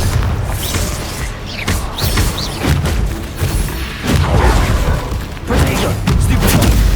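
A Bombarda spell explosion in Hogwarts Legacy on PS5 goes off with heavy booming blasts and thuds among other loud combat noises, close and dense.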